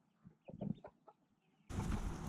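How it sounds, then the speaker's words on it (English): Silkie chickens cluck in a short burst of soft, closely spaced calls nearby, followed by a sudden rush of broadband noise that masks the last part. "Leo, are you hanging out by the chickens?"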